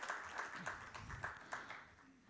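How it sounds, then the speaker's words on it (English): Audience applause for Dr. Ghanshyam Khandelwal, chairman of BL Agro, at a knowledge session. Distant, fairly faint clapping from a crowd, with a few sharper claps standing out and a low murmur beneath. "Everyone, a huge round of applause"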